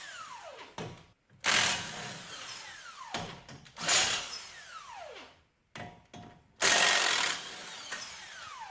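Impact or power tool with an 18mm socket working on the brakes of a Chevy Avalanche, sounding in several loud, rough bursts of a second or so, separated by brief pauses, with ratcheting clicks between.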